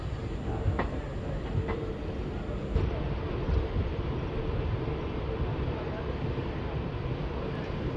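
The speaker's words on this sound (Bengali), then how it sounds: "দেখুন ট্রেন গোড্ডা স্টেশন এন্টার করছে ধীরে ধীরে" A train rolls slowly into Godda station on a quiet hill railway in Jharkhand, a soft, steady rumble of wheels on track with faint knocks, heard at low level from on board.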